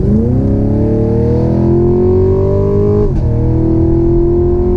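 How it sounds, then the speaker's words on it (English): A sixth-generation Chevrolet Camaro SS V8 engine revs up loudly with rising pitch, drops briefly at a gear change, then pulls again with a deep, throaty roar. "Listen to that V8."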